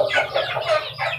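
Pet chickens cluck close by in a coop, with a continuous run of overlapping, loud, throaty clucks and no speech.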